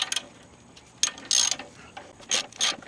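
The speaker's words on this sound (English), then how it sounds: "A 22mm socket seems to work well." A ratchet wrench with a 22mm socket turning a bolt on a Chinese mini skid steer, a few short bursts of close clicking separated by pauses.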